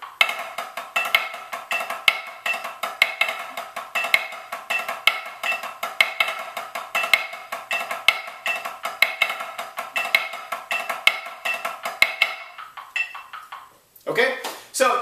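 Drumsticks tap a sixteenth-note exercise with diddles on the downbeats on a practice pad: crisp, evenly spaced close strikes in a fast steady pulse for most of the stretch, stopping near the end before a brief restart.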